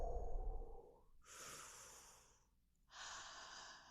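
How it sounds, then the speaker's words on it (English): Slow, deep breathing sounds close and soft: a long low exhale, then two airy drawn breaths separated by short pauses, calm and unhurried, with no talking. "Breathe with me."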